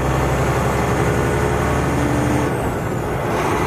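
Loaded heavy-haul truck engine pulling after a gear split, westbound on Interstate 80 in Nebraska, a steady loud cab drone with low rumble and continuous road noise throughout, no talking.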